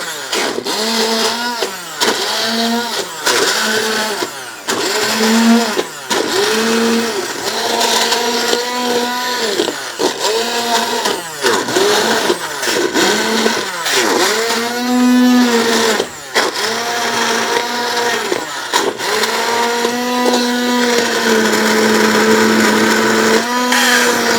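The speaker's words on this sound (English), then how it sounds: "right now I've got my stick blender" A stick blender whirs in repeated bursts, its motor pitch rising and dipping as it churns thick cooked applesauce, loud and close throughout.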